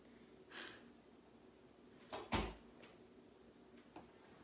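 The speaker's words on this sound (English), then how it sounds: "Close the door." A door shuts once with a single dull thud in a quiet indoor room, preceded by a soft rustle and followed by a faint knock.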